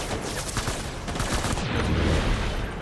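Gunfire in Death Stranding Director's Cut, a quick burst of rapid repeated shots, loud and close, filling the short moment without talk.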